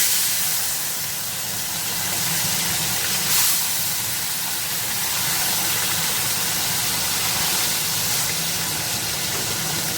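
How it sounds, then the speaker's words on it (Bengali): Bhola fish fry in oil in a hot kadai, giving a loud, steady, unbroken sizzling hiss that holds evenly throughout. "তো মাছটা ভাজা হোক, তারপরে আসছি।"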